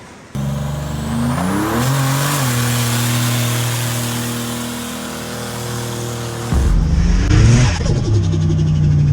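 A car engine hums steadily from inside the cabin, revving briefly early on, then the road noise shifts louder and rougher near the end.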